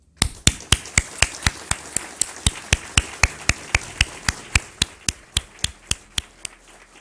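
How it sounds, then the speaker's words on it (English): Group clapping at the Nasdaq closing bell celebration for CII's 40th year: loud, steady, rhythmic claps at about three per second, with no voices over them. "I think all our distinguished guests will agree that this accomplishment deserves a very large round of applause"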